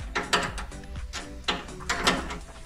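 A 10 mm socket wrench turns a fuel tank screw on a Honda CB1000R motorcycle, giving a string of sharp metallic ratcheting clicks and clunks in uneven bursts, close and moderately loud.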